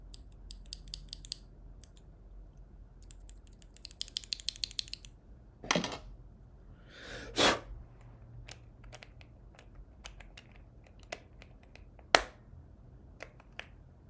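Quiet clicks and snaps from working on a faulty J key of a mechanical computer keyboard, heard as bursts of rapid tiny clicking, a few louder sharp snaps and scattered single taps against a low hum, with no talk.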